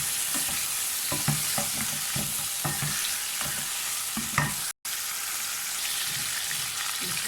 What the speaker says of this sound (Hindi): इसमें मैं अभी गोश्त डाल के भून रही हूँ।